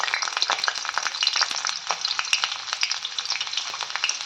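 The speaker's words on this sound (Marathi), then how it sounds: "कढईत तेल तापले त्यामध्ये आपण आता हे मोठे मोठे जे लसूण आपण सोलून ठेवले ते आधी टाकणार आहे" Large peeled garlic cloves sizzle and crackle in hot oil in a kadhai, a dense, steady frying hiss close up with no talking.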